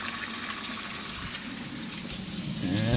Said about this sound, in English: I go ahead and turn on the hot water there. You see it pretty much comes out at the point of steaming.